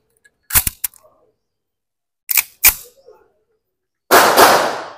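A 1911 pistol, the Ottoman Balistik Defence from Türkiye, is test-fired. Sharp, loud reports come in separated bursts: one near the start, a quick pair midway, and a longer, rougher blast at the end.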